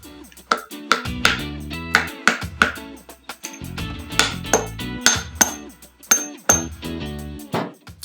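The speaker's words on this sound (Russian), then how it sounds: "Внешняя пробка легко забивается молотком" A hammer drives the outer plug into the shock absorber of a 2012 Yamaha WR450F motorcycle, a series of sharp metallic strikes in uneven rhythm, some ringing briefly after impact, close and clear with no talk.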